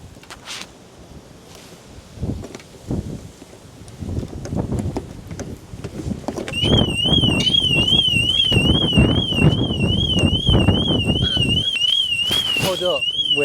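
A Ferrari Roma's car alarm starts partway through, a loud warbling electronic tone that keeps up with harmonics above it, cutting in over earlier rustling and handling noise with wind.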